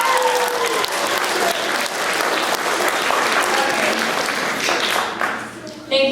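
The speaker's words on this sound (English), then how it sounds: "big round of applause for Samantha Hagan" A crowd gives a big round of applause for Samantha Hagan, loud and sustained clapping with cheering voices mixed in, easing off near the end before a final burst.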